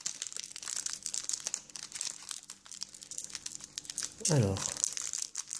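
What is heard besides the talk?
opening a Pokémon card booster pack wrapper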